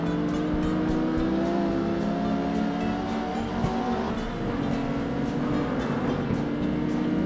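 A pickup truck races in the CarX Street video game, its engine droning loud and steady throughout with a sustained revving hum and faint tire noise.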